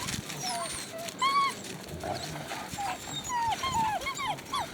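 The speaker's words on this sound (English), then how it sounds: "he's yelping away" Eight-week-old puppies yelping outdoors on a very windy day, giving repeated high, thin yips and whimpers in scattered bursts over steady wind noise, with a person talking softly now and then.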